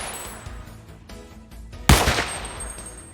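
Gunfire from weapons in the Roblox game Redwood Prison, heard as a few sharp game shots, one loud blast near the middle standing out over quieter bursts, with no talk.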